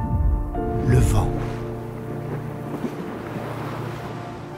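Sea waves and gusting wind on the Cotentin coast of Normandy, a steady roar of surf and blustery wind noise against the microphone, with a brief louder swell near the start beneath a tonal drone.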